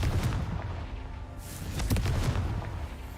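A Confringo fire spell explodes in the game Hogwarts Legacy, producing a short run of muffled booming blasts with crackling bursts that rise and fall over a few seconds, with no talking.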